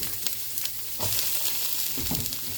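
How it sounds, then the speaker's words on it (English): Onions, ginger and garlic fry in a pan with a steady, close sizzle, broken by a few louder bursts of stirring and scraping, with no talking. "We're going to put our onions, ginger, and garlic."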